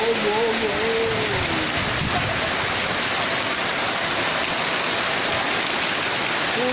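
Steady, heavy rain hisses without pause, loud and close, and a voice speaks briefly under the downpour at the start.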